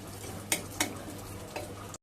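Black pepper powder and asafoetida being sautéed in a pan, a faint low sizzle under a few sharp clinks of a spoon against the pan, quiet and close.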